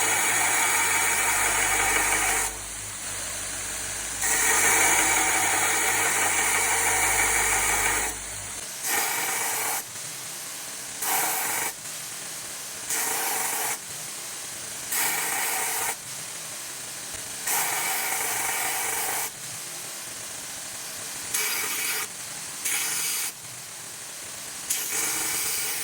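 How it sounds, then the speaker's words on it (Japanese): Grinding the tang of a CPM3V steel Japanese kitchen knife, a loud continuous grinder whine that cuts in and out in repeated bursts as the steel is pressed against the wheel and lifted away. "中子がちょっと長いので削って調整します。"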